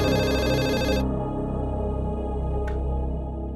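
Telephone ringing heard during an outgoing call, a steady electronic ring tone that fills the first second and then gives way to a lower sustained tone, fairly loud and close with no talk over it.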